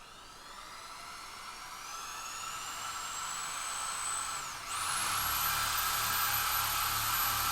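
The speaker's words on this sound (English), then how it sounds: "now I gotta drill a hole in this guy somewhere near the center" A power drill whines steadily while boring a hole into a light switch part laid on the floor, the motor pitch rising gradually, dipping briefly as the bit bites, then running loud and continuous again.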